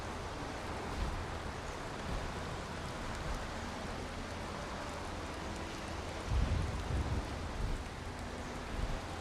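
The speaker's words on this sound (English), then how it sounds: "It's cold and rainy." Steady rainfall in the Viking survival game Valheim hisses as an even, quiet wash of noise, with a brief low rumble swelling partway through.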